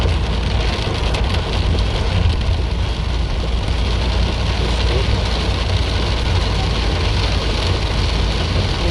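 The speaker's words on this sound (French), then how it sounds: "j'adore quand on roule avec ce bruit de pluie" Rain drums steadily on a car as it drives along a mountain road, a dense, even wash of patter over a constant low engine rumble, loud and unbroken throughout with no talking.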